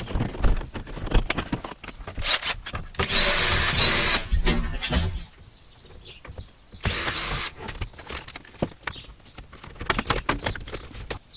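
A cordless screwdriver removes protective covers and casings from a car body, whirring in several loud bursts of a few seconds each, separated by quieter clinks and handling sounds.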